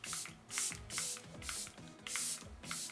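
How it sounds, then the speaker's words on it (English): Five quick, evenly spaced spritzes of a makeup setting spray bottle, close and crisp, with nothing else around them. "So I'm going to go ahead, spray, and then we'll go into the highlighter."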